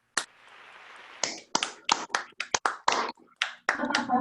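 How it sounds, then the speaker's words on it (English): A small group claps in a home setting, producing a crackling, sizzling texture like frying bacon; scattered, uneven claps and taps rather than a full ovation, close and fairly quiet. "It sounds like applause, but also it sounds like I'm sizzling"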